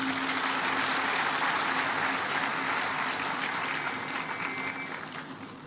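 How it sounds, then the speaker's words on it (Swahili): Crowd at a political rally in West Pokot, Kenya, claps steadily in dense, sustained applause that stays loud and only tapers slightly near the end, with no voices rising over it. "Tafadhali huyu muungwana tumpigie makofi jameni."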